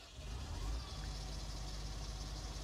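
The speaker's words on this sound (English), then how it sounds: "That was automatic engine start" A combine harvester's engine in Farming Simulator 19 settles into a steady, low rumbling idle that runs close and even throughout.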